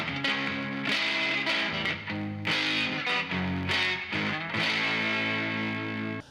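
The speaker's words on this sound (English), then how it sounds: "it's like an overdrive fuzz distortion pedal" Electric guitar through a Hangman FX overdrive fuzz distortion pedal plays a chunky riff of repeated chords, thick and saturated, with brief breaks between strums.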